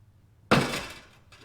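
Plastic trim panel clips pop loose on a 6th-generation Chevrolet Camaro (2016-2022): one sharp, close snap with a brief rattling decay, then a softer second pop a moment later.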